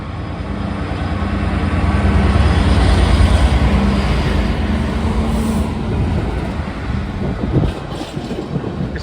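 A Class 66 diesel locomotive hauls a heavily loaded intermodal freight train slowly past Tapton bridge, Chesterfield, a heavy engine throb and rolling rumble that swells, then eases, with wagon clatter toward the end.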